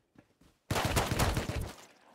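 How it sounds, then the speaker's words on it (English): Gunfire in the survival video game Rust, a few faint pops followed by a dense, rattling burst of distant shots lasting about a second, fairly quiet overall. "Who's shooting at me?"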